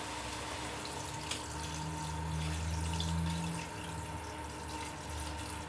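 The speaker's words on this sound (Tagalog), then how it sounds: "Lagyan na natin ng tubig." Water runs steadily into a cooking pot for Filipino pork nilaga, a continuous faucet-like rush with a low rumble that holds for several seconds at moderate level, with no talking.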